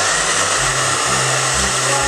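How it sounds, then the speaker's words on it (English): Hair dryer running on high heat aimed at a candle: a loud, steady, close whooshing roar with a low motor hum underneath, constant throughout with no talking. "We'll go ahead and blow dry this on a high temperature."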